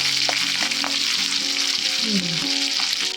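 Green chilies fry steadily in hot oil in a village kitchen, a loud continuous sizzle with occasional pops and faint stirring, close to the microphone and with no talk.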